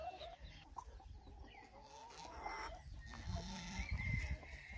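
A rooster on a farm in rural Goiás gives low clucks and murmurs, moderately close, with a busy farmyard background of other birds and animals.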